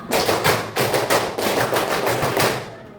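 A class clapping together in a scout clapping game, a loud, rhythmic series of crisp, closely spaced claps from many hands, fairly near and with almost no talk.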